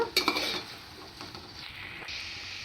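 A metal spoon clinks and scrapes against a pan a few times while mushroom curry is stirred, then a soft sizzling stir continues quietly over low heat.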